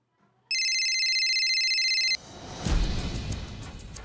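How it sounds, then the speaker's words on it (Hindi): A telephone rings with an incoming call, loud electronic tones sounding steadily for about one and a half seconds before cutting off, followed by quieter room noise and rustling. "प्रदीप जी का फोन है।"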